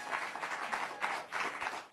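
A studio audience at a Fox News comedy talk show breaks into loud, sustained applause. The dense, surging clapping fills the moment alone, with no one speaking over it.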